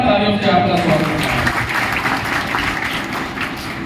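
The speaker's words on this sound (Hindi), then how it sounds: "इसके जोरदार तालियों से आपका स्वागत है।" A crowd at a school felicitation ceremony in Ghatampur, Sultanpur claps loudly and steadily for several seconds to welcome a speaker, the applause fairly close and filling the room, with some voices mixed in.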